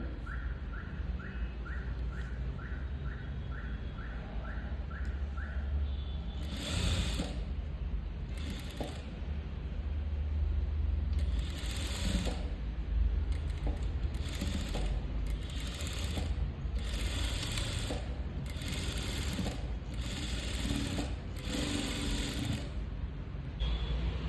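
A sewing machine stitches a sleeve border in repeated short bursts of fast mechanical whirring, separated by brief pauses, after a quieter opening with faint ticking.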